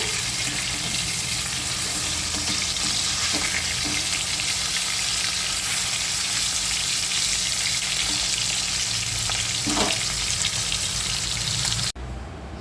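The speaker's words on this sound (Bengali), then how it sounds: "এই যে দেখুন মাছগুলো ভেজে নিচ্ছি" Fish fry in oil in a kadai with a loud, steady sizzle and crackle that runs without a break, close to the listener, then cuts off abruptly near the end.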